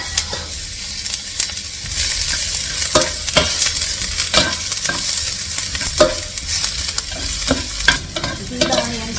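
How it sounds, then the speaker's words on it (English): Onions and curry leaves fry in a pan for a Sri Lankan chilli fish curry, a steady close sizzle broken by frequent scraping stirs and clinks of the utensil, with no talking. "So now I'm adding the onions and the curry leaves."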